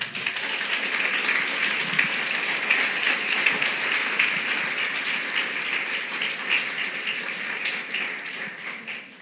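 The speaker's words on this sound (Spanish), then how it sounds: "Denle un aplauso a Jesús." A church congregation applauds during a sermon, with steady, dense clapping that stays loud and even for the whole stretch, with no speech over it.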